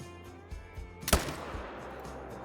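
A single sharp rifle shot cracks out at close range while hunting ibex in Call of the Wild, with a reverberating tail and a few faint thuds earlier.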